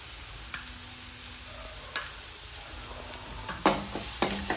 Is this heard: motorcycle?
no